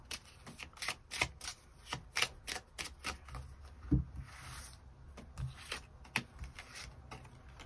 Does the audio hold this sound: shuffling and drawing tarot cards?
yes